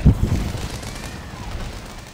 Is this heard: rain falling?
no